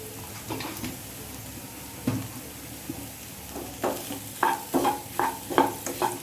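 A spoon scrapes through boiled potatoes and salt in a pan, mixing the vada pav filling over a faint sizzle, with a few scattered strokes at first and then a run of rhythmic, louder scrapes.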